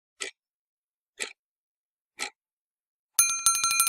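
A small notification bell sound effect plays: three short, crisp ticks spaced about a second apart, then a bright, ringing bell chime with a rapid metallic trill, clean and isolated.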